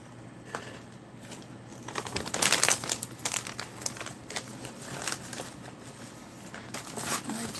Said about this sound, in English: Put everything back inside the ration bag.